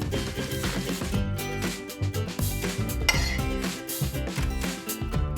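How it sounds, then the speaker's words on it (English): Chickpea and bacon topping scraped from a pan onto a guacamole base, a steady close scraping and clinking of utensil against cookware with dense rustling texture throughout, no voices. "now I'm gonna scrape this topping right on top"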